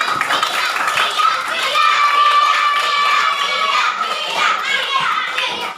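A group of children claps hands together in a classroom, a dense, steady patter of many hands that runs for several seconds with young voices mixed in.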